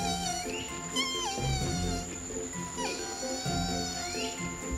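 A human voice imitates the noise of a baby sloth with squeaky, wavering, meow-like glides rising and falling in pitch, close and fairly loud over a dense background of outdoor sound.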